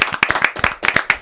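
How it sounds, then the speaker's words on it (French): A small studio audience claps for Queenie, an entrepreneur and pastry maker being introduced on a talk show. The applause comes as a few loud, close bursts of handclaps with short gaps between them. "on peut applaudir Queenie."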